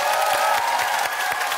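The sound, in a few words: audience applause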